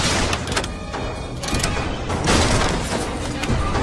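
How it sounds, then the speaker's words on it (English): Booming rocket blasts in BioShock, a string of deep thuds and rumbling explosions over continuous battle noise, with voices partly buried in the din. "Rockets, watch out!"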